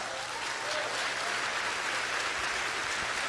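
A church congregation applauds during a sermon, with thick, continuous clapping from a large crowd filling the room at a constant, fairly loud level.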